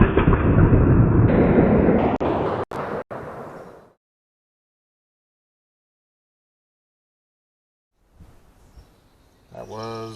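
A Remington 870 shotgun fires a 3-inch Kent Ultimate Diamond Shot turkey load at 20 yards outdoors, giving one loud, sharp blast with a sustained roar that dies out into silence, followed by faint movement.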